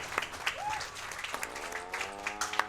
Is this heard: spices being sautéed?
no